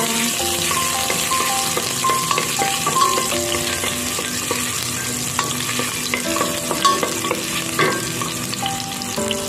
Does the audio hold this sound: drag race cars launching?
no